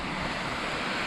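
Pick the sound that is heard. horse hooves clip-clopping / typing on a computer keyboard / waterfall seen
waterfall seen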